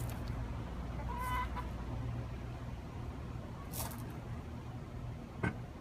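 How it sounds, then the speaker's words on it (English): Chickens cluck a few times in short, scattered bursts over a steady low background hum, moderately close. "These are my chickens"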